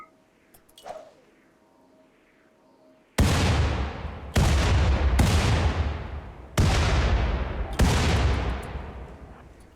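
Grenade blasts and turret gunfire in the video game Rimworld: a faint thump and light rattle, then four loud, sharp explosive bursts about a second apart, each trailing off in a long rumbling decay.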